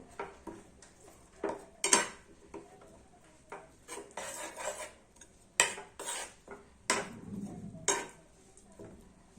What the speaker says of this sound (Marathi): हे मिश्रण हलवत असायचं आणि गुळ आपला जळायला नको।